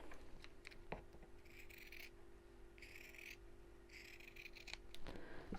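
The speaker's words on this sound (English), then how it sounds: "I'll just draw on one side of the lining and cut through both" Scissors cut through two layers of fabric lining for a tie tote bag, with several short bursts of crisp snipping and rustle spaced across a few quiet seconds at close range, no talking.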